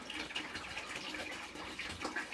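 Water poured from a container into a green dandelion wine mixture, a steady splashing gush that runs continuously and fairly close without pause.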